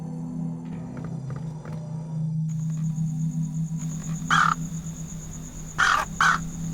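A bird caws near its nest in the point-and-click adventure game Anna's Quest, three harsh calls over a steady low ambient drone and faint clicks.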